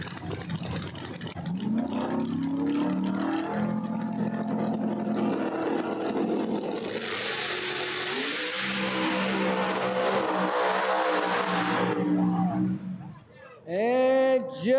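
Street Outlaws No Prep Kings drag cars at Empire Dragway, New York, roaring under full throttle down the strip in a long, loud continuous engine howl, with a commentator talking over it throughout.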